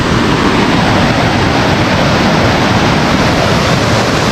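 Powerful river current rushing near a storm-damaged dam, a loud, constant roar of water with some wind buffeting the microphone.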